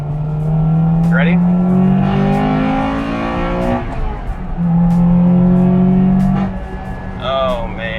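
Engine of a 2001 Acura Integra Type R pulls hard on the road, rising in pitch through the gears with a pause between pulls, loud and close, with a voice talking over it.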